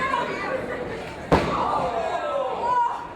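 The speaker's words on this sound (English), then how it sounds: "Slams down on the back of Kiera Hogan" A single sharp slam as a wrestler crashes down on an opponent's back during a women's professional wrestling match, cutting through steady crowd noise and ringside commentary.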